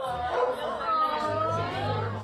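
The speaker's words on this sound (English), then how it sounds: "At the doggy daycare behind the press conference, dogs like Hutch here were getting adopted too." Dogs at a doggy daycare bark and yip close by in a busy, overlapping chorus, with whimpering tones and background chatter mixed in.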